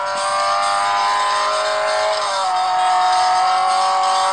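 Race car engine in the mobile racing game Real Racing 3, a steady loud high-revving drone with a slight pitch shift midway, continuous with no talk over it.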